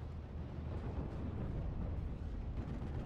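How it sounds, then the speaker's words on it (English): Nebelwerfer rocket barrage in a World War II strategy game, a dense, continuous low rumble of distant explosions rolling together without clear gaps, muffled and steady throughout. "Nebelwerfer coming in for another barrage on the Scott."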